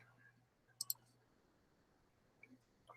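Two quick computer mouse clicks sound in a close, quiet room, followed by a couple of fainter clicks a bit later, with no talking.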